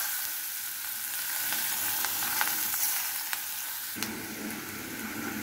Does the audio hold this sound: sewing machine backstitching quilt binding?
no